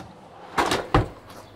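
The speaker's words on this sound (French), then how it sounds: "Vous poussez le tiroir" Drawer in the compact kitchen of a teardrop camping trailer being pushed shut, giving two close, distinct knocks or bumps about a third of a second apart, followed by a faint softer tap, with no talk.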